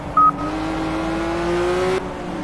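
Mitsubishi Lancer Evolution FX400 racing ahead in the video game Project Cars, a steady engine drone with rising tonal whine and a short high beep near the start, loud and continuous without talking.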